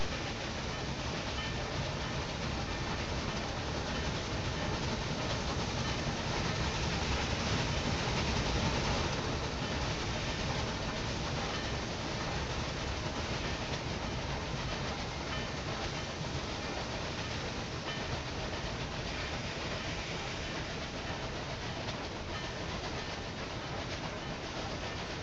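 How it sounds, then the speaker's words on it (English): A train in the Railway Empire 2 game rolls along the rails on a route through central France, a steady, dense rumbling roar that holds constant and close throughout without pause. "train should actually be able to pick up speed in this part."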